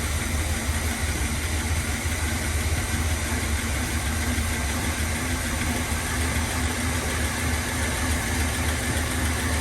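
Engine of a 1981 GMC Sierra pickup that had sat unused for years, idling with a steady low rumble and even vibration, close and unbroken with no voices.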